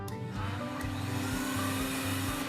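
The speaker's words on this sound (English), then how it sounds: "I like to use a vacuum to remove it." Horse vacuum drawing dirt and loose hair from a horse's curried coat, a steady loud motor drone with a sustained hum and low pulsing as the nozzle moves across the coat.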